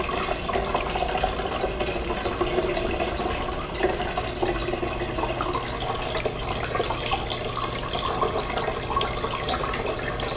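Water pumped through a groundwater model, its flow adjustable at the recharge level to raise or lower a lake, giving a steady close trickling and gurgling stream with no talking.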